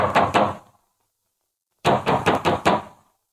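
Knocking on a door in a 1940s Hindi film scene: two quick raps, a pause, then a burst of five or six loud, close knocks in an uneven rhythm, with no talking over them.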